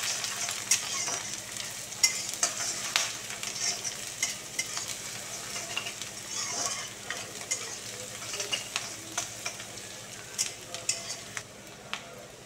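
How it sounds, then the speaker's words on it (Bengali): Chopped onion, garlic and green chili frying in a pan for begun bharta, a soft steady sizzle broken by repeated scraping and clinking strokes of a spatula as the mix is stirred, with no voices. "পেঁয়াজ ভাজা হয়ে গেছে হালকা, আমি এবার একটু রসুন কুচিটা দিয়ে দিলাম। কাঁচা লঙ্কা দিয়ে দিলাম। বেশ ভালো করে নেড়েচেড়ে নেব।"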